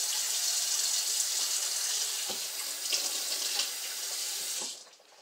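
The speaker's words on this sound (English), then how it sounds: "Giving my hands a quick rinse." Kitchen faucet running steadily as hands are rinsed under the stream, a close, continuous hiss of water with small splashy shifts, shutting off near the end.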